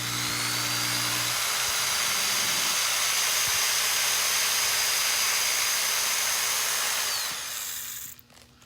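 A steady, high-pitched whine of a small drill boring through a Christmas ornament runs continuously for several seconds near the mic, then cuts off and fades at the end.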